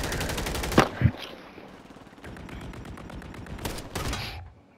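Automatic gunfire in the Call of Duty Warzone video game: two sharp loud bursts near the start, then a steady rapid rattle of shots running through the middle with another louder burst near the end.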